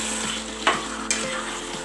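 Chicken chukka sizzling in a pan as a spoon stirs it, a steady fry hiss with two sharp scrapes of the spoon against the pan, close by.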